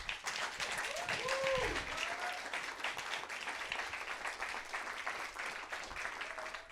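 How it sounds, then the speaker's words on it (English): An audience claps in sustained applause that fills the whole stretch at an even level, with a brief voice near the start. "Another round of applause."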